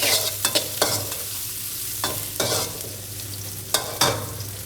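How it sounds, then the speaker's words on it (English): Chili, garlic and onion stir-frying in hot vegetable oil for Thai drunken noodles: a continuous sizzle broken by sharp, loud scrapes and clatters of a spatula at irregular intervals. "Add the chili, garlic, and onion, and stir and fry for a few seconds."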